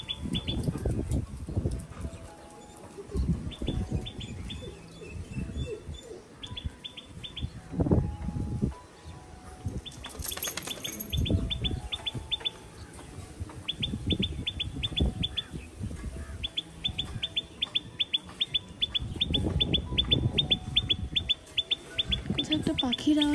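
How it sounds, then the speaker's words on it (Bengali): A bird calls repeatedly from within a small tree among flowers, its short bright chirps recurring in bursts over a steady outdoor background, with occasional people talking nearby. "একটা পাখি ডাকছে।"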